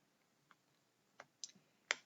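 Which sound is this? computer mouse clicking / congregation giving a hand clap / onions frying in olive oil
computer mouse clicking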